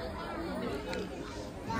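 Crowd of devotees at the Anusaya Mata temple in Paradsinga, steady indoor murmur of many overlapping voices and shuffling, a dense babble at moderate level.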